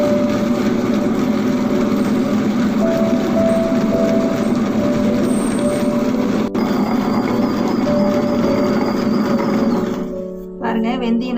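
A wet grinder churns soaked fenugreek seeds for idli batter, giving a steady, loud, continuous rumbling whir that holds evenly throughout and dips near the end.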